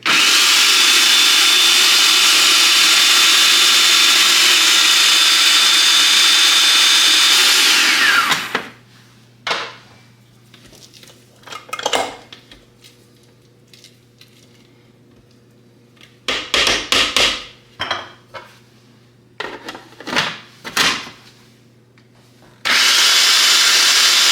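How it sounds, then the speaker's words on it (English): A food processor blitzes onion and tarama with a loud, steady whir for several seconds, then stops. Scattered clatter and knocks from the bowl follow before the motor roars back on. "we've had the food processor whizzing for about 2 to 3 minutes"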